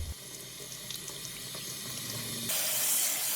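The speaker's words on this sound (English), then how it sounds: "We'll start by washing a potato under cold tap water." Water runs from a kitchen tap in a steady hiss that grows brighter and stronger partway through, close by with no talking.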